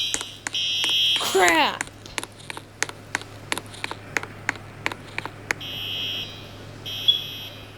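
An alarm goes off in a nuclear byproduct facility, with steady short beeps ticking at a regular pace and brief electronic tones near the start and end, while a voice speaks briefly over it.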